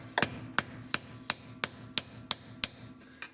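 Hammer blows drive a flathead screwdriver around the pinion seal on a Jeep, about ten sharp metallic taps at a steady, slightly uneven rhythm, close and alone with no talking.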